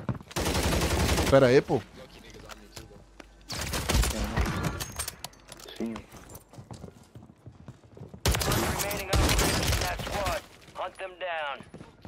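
Bursts of rapid gunfire in a video game, dense rattling volleys separated by quieter gaps, with someone speaking briefly between them.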